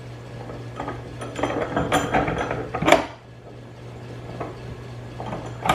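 Ratchet wrench clicking during a fuel pressure regulator install on an SR20DET engine: faint, quick metallic clicks and clinks, with a sharper clatter near the middle, over low steady background hum.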